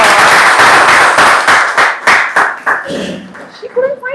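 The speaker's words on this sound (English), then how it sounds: "A big round of applause." A meeting audience claps in a burst of applause that thins into scattered, uneven hand claps before fading, with voices talking over the end.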